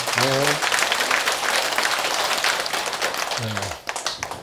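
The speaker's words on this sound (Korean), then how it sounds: "박수입니다" Audience applause fills a lecture hall at a Buddhist temple special talk, a dense, sustained wash of many clapping hands that tapers near the end, with a voice briefly heard over it.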